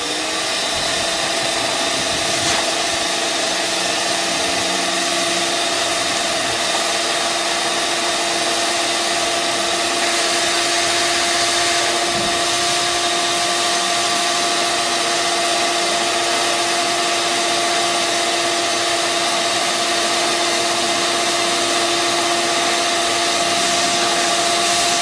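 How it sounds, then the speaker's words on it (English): A shop vac blows air into a salted bear skin, making a loud, steady whining roar with a constant tonal hum that runs without a break the whole time, with no voices. "I like to go ahead and use the shop vac and blow air into there"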